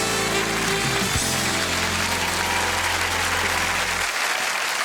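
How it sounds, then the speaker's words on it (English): A television talent show audience applauds a star guest, a dense, loud wash of clapping with music playing underneath that cuts out near the end while the clapping carries on. "clap your hands for star guest number 4"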